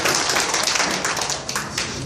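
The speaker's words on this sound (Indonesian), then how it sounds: "yang mau berikan tepuk tangan buat Tuhan Yesus" A church congregation claps together in worship, a dense, steady wash of many hands that stays loud and even for the whole stretch, with no voices standing out.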